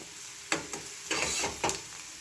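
Onions frying in a pan as they turn reddish, a soft steady sizzle with several brief louder bursts as they are stirred, close and fairly quiet.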